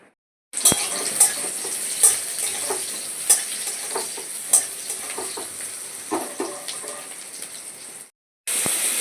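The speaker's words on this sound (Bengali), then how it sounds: "কড়াই তেল দিয়ে দিয়েছি, পেঁয়াজটা ভেজে নেব।" Onions fry in oil in a wok with a continuous crackling sizzle, broken by regular sharp taps and scrapes of a spatula stirring, close and fairly loud before a brief cut.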